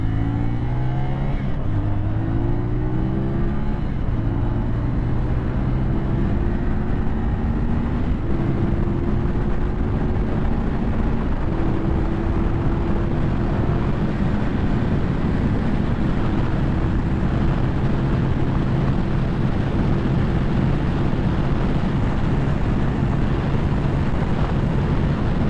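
A CFMoto 450SS motorcycle rides at high speed, its engine droning steadily and stepping through rising pitches under constant loud wind roar for a long, unbroken stretch.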